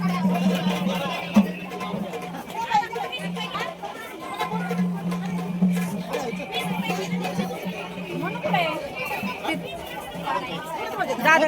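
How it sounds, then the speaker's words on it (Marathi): Dense crowd chatter and hubbub from a large gathering of worshippers at Jejuri temple on Mahi Purnima, a steady murmur of many voices with a low droning tone running beneath, continuous throughout. "गर्दी लई आज गेल्या वर्षीपेक्षा गर्दी लई जास्त"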